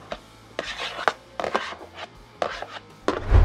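Red peppers, onions and green onions for hibachi fried rice on a Blackstone griddle, heard as a few close, sharp scraping and tapping strokes of a spatula against the flat-top between quieter gaps, with a faint sizzle underneath.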